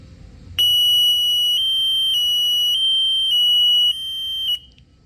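An alarm box set off by a capacitance sensor sounds a loud, piercing electronic tone. It starts abruptly, pulses slightly over about four seconds, then cuts off.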